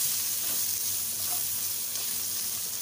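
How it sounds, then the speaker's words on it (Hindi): Capsicum and onion sautéing with ginger and garlic in hot oil for a vegetarian veg chilli, giving a steady, close, even sizzle with no talk. "इसमें हम डालेंगे शिमला मिर्ची और प्याज, इसको अच्छे से सौते करेंगे।"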